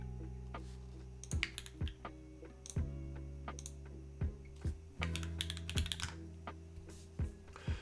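Someone types on a LinWorks Whale 75 Hall effect mechanical keyboard, producing sharp, close key clicks in irregular bursts of single taps and quick runs over a low background hum.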